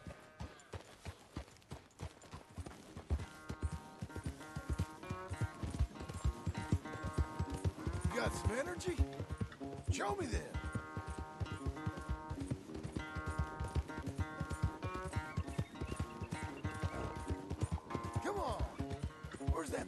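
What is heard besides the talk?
horse hooves and neighing in the video game Red Dead Redemption 2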